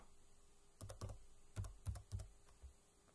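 Typing on a computer keyboard during a Visual Basic lab session: several close, quick clusters of key clicks with short pauses between them, no talking.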